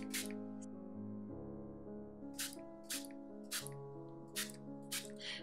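Spray paint hisses over a stencil in a series of short, sharp bursts, about six in quick succession, set against steady background music.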